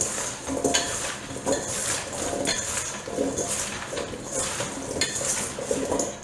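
Seasoned potato chunks and steak are tossed in a bowl, producing repeated scraping and clinking of a utensil against the dish in an uneven, busy rhythm, close and moderately loud.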